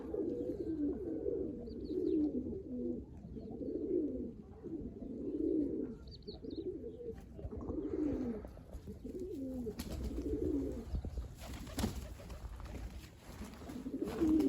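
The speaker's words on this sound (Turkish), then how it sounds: "Burada da mənim İran quşlarım." Iranian pigeons coo in a steady, repeating rhythm close by, their low throaty calls rolling on through the whole stretch, with a few brief rustles and flaps partway through that could be wings.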